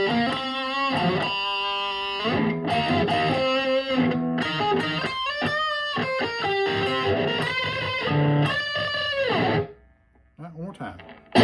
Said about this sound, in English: I put a little more distortion in it now.